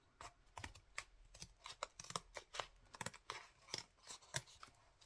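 Scissors snip through paper for a papercraft journal in a run of crisp, close cuts, some quick and clustered, others spaced apart, with no talking.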